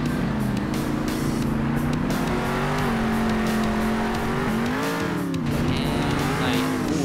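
A monster truck in Monster Jam Steel Titans roars steadily with a loud, continuous engine drone whose pitch rises and dips, with tire squeal and skidding mixed in throughout.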